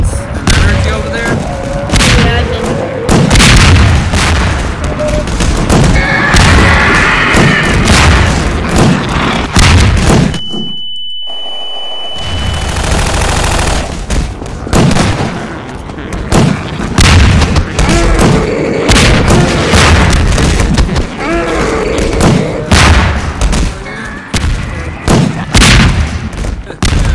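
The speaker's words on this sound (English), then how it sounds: "I'm gonna shoot them with the crossbow. Or you can shoot the Uzi." Rapid gunfire and heavy booms from a crossbow and an Uzi fill a Garry's Mod zombie fight aboard an aircraft carrier. The loud, dense bursts run almost nonstop, with one brief quiet gap near the middle.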